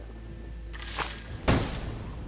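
A cannon fires in a modded video game, giving two heavy booms about half a second apart over a steady low background rumble, with no one talking.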